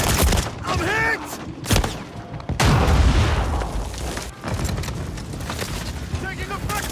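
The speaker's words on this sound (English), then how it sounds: "Taking effective fire!" Gunfire and explosions in a Call of Duty multiplayer hardpoint match on an airplane graveyard map: loud bursts and booms mixed with game voice callouts and effects throughout.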